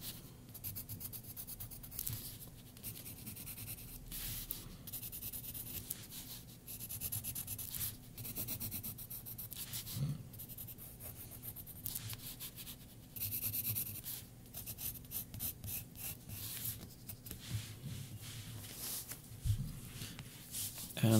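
Close up, a graphite pencil scratches and rubs across paper as a girl's face is drawn and shaded, with bursts of strokes and short pauses in between.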